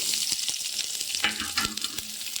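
Small shallots frying in a modest amount of oil in a kadai, a continuous bright sizzle with light taps and stirring clicks close by, no talk.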